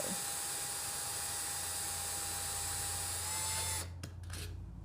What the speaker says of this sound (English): this is pretty small hole